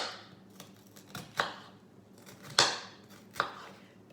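Knife chopping pre-chopped onion for chilli con carne on a board, giving four or five sharp, close chops spaced unevenly about a second apart, without talking.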